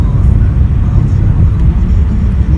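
Inside a moving car, a loud, steady low engine and road rumble drones without letup, with no clear voices over it.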